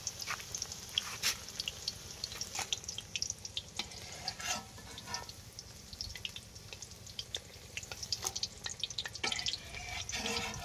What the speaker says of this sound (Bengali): চলো তুলে আমরা একটা ঠান্ডা জল রেখেছি, জলের মধ্যে দেব।